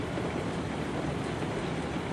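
Steam train rolling along the rails up a valley in Railroads Online, a steady, continuous rumble and rattle gaining speed, with no talk over it.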